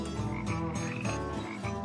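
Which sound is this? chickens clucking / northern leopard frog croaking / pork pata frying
northern leopard frog croaking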